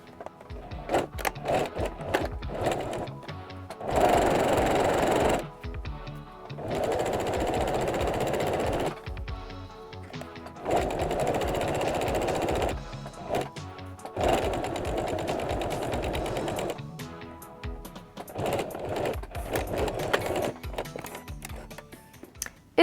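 A sewing machine stitches underwear fabric in bursts of rapid, even mechanical whirring. Several separate runs of a few seconds each are broken by short pauses, and the sound is close and clear with no talk.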